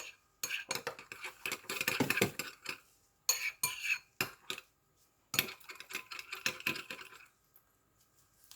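Metal utensil clinking and scraping against a bowl while stirring a sweet pizza dough mixture with sugar, in bursts of rapid clatter separated by short pauses, close and fairly quiet.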